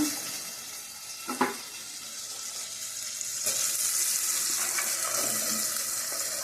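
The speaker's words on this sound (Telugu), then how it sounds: "రొయ్యలు కొంచెం ఎర్రగా ఎగిదాకా వేసుకున్నాను ఇందులోనే ఇవైతే వేగుతా ఉన్నాయి" Dried prawns frying in a pan, giving a continuous hissing sizzle that swells louder partway through, with a couple of soft knocks from a utensil early on.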